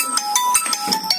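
A phone ringtone chimes in a quick repeating electronic pattern of bright tones, close and clear, with no voices over it.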